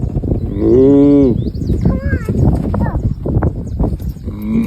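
Cattle on a farm during feeding, with a close, drawn-out moo-like low call near the start, followed by children and an adult talking over outdoor farm ambience.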